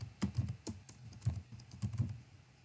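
Clattery keystrokes on a computer keyboard tap out C code in quick uneven bursts, close and moderately quiet, with no talking.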